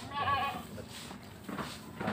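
A goat bleats faintly at the start, a short wavering cry heard against quiet farm background noise where goats and sheep are kept and fed fermented feed.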